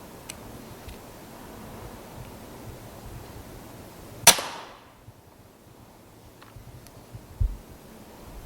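A BSA Ultra JSR air rifle fires once during a night rat hunt, a sharp, close crack in a quiet outdoor setting, followed by a faint thump a few seconds later.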